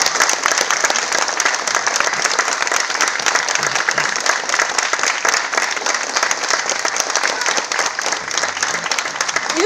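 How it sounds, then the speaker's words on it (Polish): Sustained, dense applause from a concert audience after a sung poetry performance in a Polish venue. The clapping is loud and steady throughout the clip, with a faint crowd murmur underneath. "Jeszcze raz brawa."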